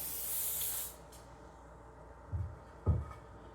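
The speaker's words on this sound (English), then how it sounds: "Slowly build up the color in light misting coats. See how it sprays." Spray paint can misting light coats: a close, bright hiss burst lasting about a second, then quiet followed by two soft low knocks.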